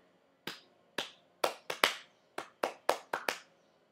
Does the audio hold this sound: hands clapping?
yes